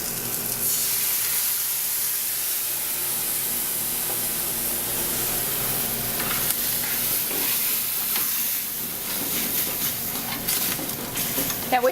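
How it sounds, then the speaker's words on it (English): Coconut milk poured into a hot pan to glaze, giving a steady loud sizzle and hiss with some stirring scrapes throughout, close and continuous. "I glaze that with some more coconut milk over here."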